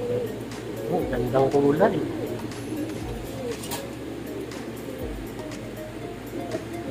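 Imported pureline racing pigeons coo in a pigeon showroom. Soft, low cooing phrases come near the start, and someone talks over them for most of the clip.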